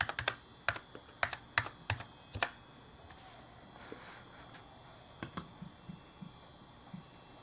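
Keys are typed on a Power Mac G4 Cube keyboard in uneven clusters of crisp, close clicks over a faint room hum, with a short pause partway through.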